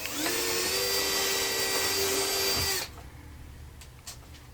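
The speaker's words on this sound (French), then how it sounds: "Donc on va percer la façade dans son intégralité." A drill bores through the front panel of a cabinet with a loud, steady high-pitched whine for nearly three seconds, then stops abruptly, leaving faint workshop clatter.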